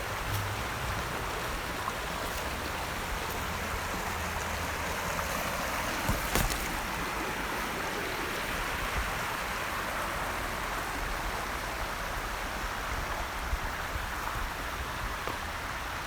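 Deep Creek in Peachland at Hardy Falls Regional Park, where Kokanee salmon spawn, rushes past as a steady, broadband wash of flowing water, close and continuous, with no voices.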